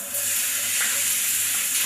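Onions fry in hot oil in an electric frying pan, giving off a steady, loud sizzling hiss that is close and continuous, with no talking.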